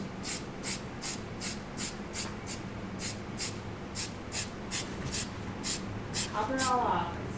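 A light coat of thick spray goes onto resin art in short, repeated hissing bursts at an even rhythm. The bursts are close and moderately loud over a low background.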